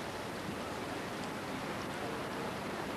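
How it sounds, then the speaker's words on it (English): Heavy rain pours down on the Wimbledon tennis grounds in 1985 as a dense, unbroken hiss that stays even and loud throughout, with no talk. "The sound of rain hitting Wimbledon again for the second day and hitting it at this moment very hard indeed."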